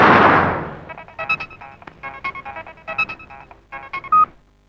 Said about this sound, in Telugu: ఫోన్ చేసి మీ అన్నయ్య రమ్మని